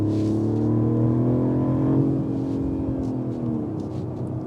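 A 2025 Mercedes-Benz CLE 450 accelerates hard, its engine note a steady, loud drone heard from inside the cabin that climbs in pitch and then eases off.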